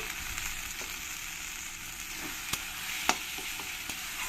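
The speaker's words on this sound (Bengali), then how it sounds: "দিয়ে আমি কিছুক্ষণ এর সঙ্গে পেঁয়াজ আর টমেটোর সঙ্গে কষিয়ে নেব" Ginger, garlic and green chilli paste sautéing with onion and tomato in a hot pan, a steady close sizzle with a few sharp ticks of a spoon stirring against the pan.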